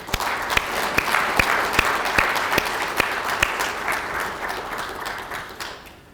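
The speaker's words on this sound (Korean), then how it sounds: "박수로 환영해 주시기 바랍니다" A seated audience at a regular quarterly meeting gives applause to welcome a district mayor: a dense, rolling clatter with a few sharp, close single claps standing out, fading away in the final second.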